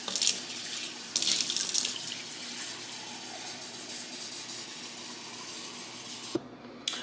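Tap water running steadily into a measuring cup at close range, a continuous splashing rush with two brighter bursts early on, ending abruptly as the flow is cut off.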